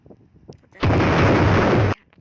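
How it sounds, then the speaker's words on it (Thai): An explosion set off in the Roblox Brookhaven roleplay game: one sustained, loud roaring blast that cuts in abruptly, holds steady for about a second, then stops dead, with quiet before and after. "เราก็กดระเบิดไม่รู้ว่ามันระเบิดได้หรือเปล่านะ"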